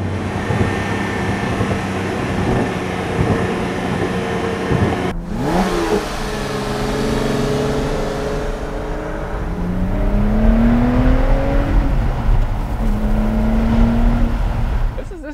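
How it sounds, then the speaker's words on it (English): A Lotus Evora sports car engine revs hard and close, its exhaust note rising and falling through several throttle blips, with a brief break partway through. "Something in that exhaust note that reminds me of driving the Murcielago Roadster."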